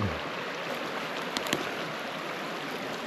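Flowing water of Antietam Creek, swollen by recent rain, rushes in a steady broadband wash close by, with a couple of faint knocks partway through and no voices.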